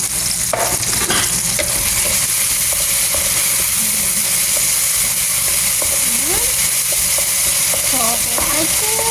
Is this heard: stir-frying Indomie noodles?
yes